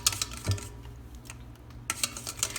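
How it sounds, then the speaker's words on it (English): Tres leches cake batter is whisked by hand in a metal bowl, giving rapid clinking, ticking strokes close up that pause briefly and then resume. "after you poured it, you're gonna start whisking immediately."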